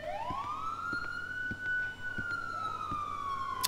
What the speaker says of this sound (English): someone turn your siren off